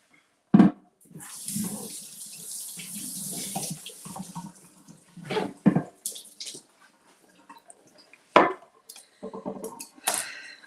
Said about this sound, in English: let's give it a quick rinse